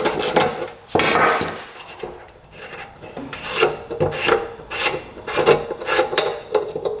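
A rusty motorcycle fuel petcock from a rare two-stroke bike being scraped and cleaned out, giving repeated short rasping, scrubbing strokes at close range with no talk.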